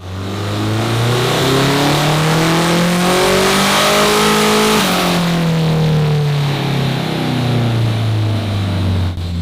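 A K24 turbo Honda Civic engine roars loudly on a dyno tuning pull, its pitch climbing steadily for several seconds, then dropping and climbing again, close and with no talk over it.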